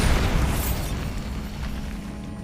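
A Bombarda spell explosion in the Hogwarts Legacy video game: a single booming blast that decays over a couple of seconds, alone without speech.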